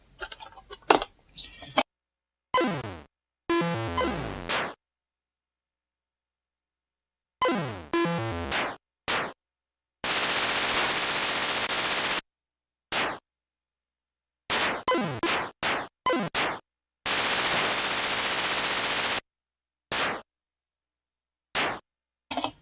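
Shooting robots in the Atari 2600 game Berserk, bursts of raw electronic noise and buzzy zaps alternating with stretches of silence, loud and synthetic with no talking.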